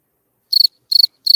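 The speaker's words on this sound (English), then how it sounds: "Crickets." Three short bursts of crickets chirping, each a quick trill of rapid pulses with clean silence between, bright and close with nothing else around.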